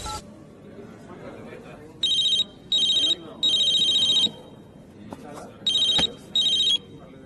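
A telephone rings in short electronic bursts, five or six trills in a broken rhythm, loud over a background of people chattering.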